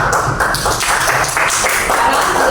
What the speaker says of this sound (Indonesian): Kita beri tepuk tangan dulu untuk mereka.